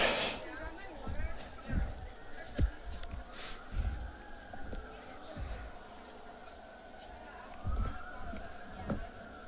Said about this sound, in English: I think we're in downtown Manhattan right now with the sirens going on behind us.